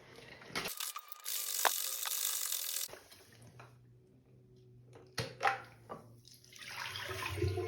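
Rice and water shaken inside the dirty-water tank of a Hizero floor cleaner, a loud sloshing rattle for a couple of seconds followed by quieter clunks, knocks and water movement, no talking.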